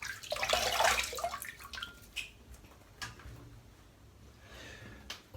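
Water splashing as shaving lather is rinsed off after a wet shave, loud and close at first, then fading to scattered drips and small splashes.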